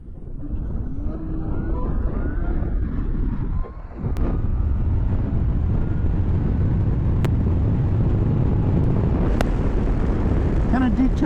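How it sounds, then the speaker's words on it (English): A 2023 Zero DSR X electric motorcycle accelerates hard, its high motor whine rising in pitch over heavy, continuous wind roar from riding at speed. "the whine this bike makes"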